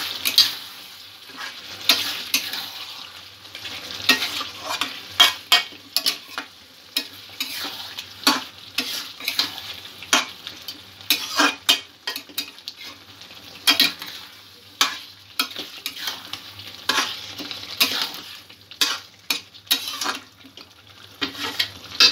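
A chicken kalia masala paste fries in a pan while being stirred, giving repeated rhythmic scraping strokes and clinks over a constant close sizzle.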